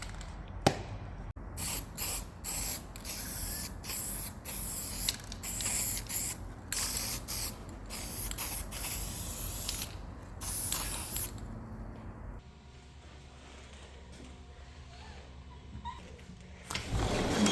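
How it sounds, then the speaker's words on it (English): Penetrant hisses from a spray can onto a cracked cast iron housing in loud, rapid bursts of spraying, stopping and starting many times, close and alone, and then it goes quiet. "Then I need to spray on the penetrant."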